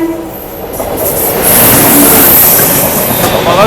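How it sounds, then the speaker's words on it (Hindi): Delhi–Trivandrum Rajdhani Express rushing past alongside a slowed train, a loud, close roar of passing coaches that swells and holds with hissing wind noise and faint high squeals. "बगल से ये क्रॉस हो रही है इंडियन रेलवेज की लॉन्गेस्ट रनिंग राजधानी एक्सप्रेस, दिल्ली त्रिवेंद्रम राजधानी।"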